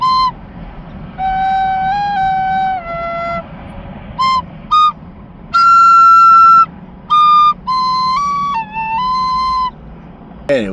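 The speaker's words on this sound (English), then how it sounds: "Anyway, playing this tin whistle." A D tin whistle plays a slow, breathy melody in short phrases, clear and close, with brief pauses between notes.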